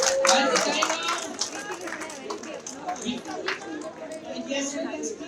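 An audience at the IEM Kolkata 2023 convocation ceremony claps steadily at moderate volume, with people talking over and around the applause.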